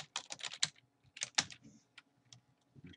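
Keys clatter on a computer keyboard as an email address, password and username are typed into a sign-up form, with bursts of quick close taps separated by short pauses.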